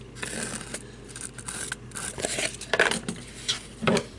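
Scissors cut sparkle paper for a miniature tea set trinket box, making a series of close, crisp snips and papery crunches in an irregular rhythm, with no talking.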